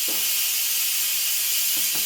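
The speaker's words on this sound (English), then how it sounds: "you're going to see all the pressure is being released" An Instant Pot vents its pressure in a steady, loud hiss of escaping steam that runs unbroken, with no one talking.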